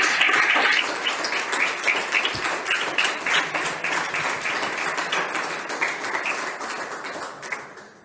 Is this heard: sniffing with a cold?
no